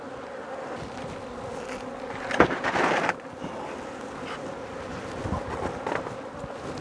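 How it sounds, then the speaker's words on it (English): Honey bees buzz around a hive box as stragglers leave and settle, a steady close drone with a louder swell of wingbeats partway through. "The few bees that are left in the box will come out and they'll all settle down"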